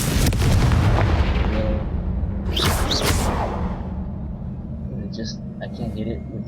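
A Confringo fire spell explodes in the video game Hogwarts Legacy: a sharp, loud blast with a whooshing burst over steady low game rumble, followed by fainter crackling debris.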